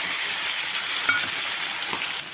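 A paste of ginger, garlic and green chili fries in a pan with cumin, coriander, dried chili and turmeric, making a dense, even sizzle close by with a faint clink near the middle.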